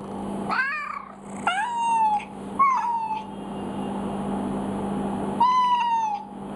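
Two Cats ringtone playing on a Windows 10 phone, a run of four clear cat meows, some drawn out, over a steady low hum.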